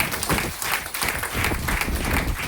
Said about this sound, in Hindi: आप सभी के लिए एक जोरदार ताली